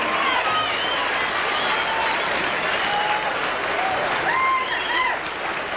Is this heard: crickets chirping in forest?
no